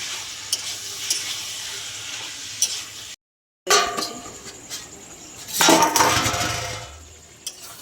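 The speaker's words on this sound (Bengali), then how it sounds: "তারপরে চিকেনটা দিয়ে দিচ্ছি। ভালো করে কষে নেব চিকেন দিয়ে।" Chicken hits hot spiced oil in a pot for biryani and is stirred hard, with a soft sizzle broken by spatula clinks and scrapes, a brief cut to silence, then a louder burst of frying and stirring.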